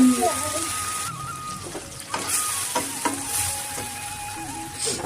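Tomato and turmeric frying in a pan while being stirred, a steady sizzle with scraping stir strokes and occasional clinks of the spoon, with a voice speaking over it at times.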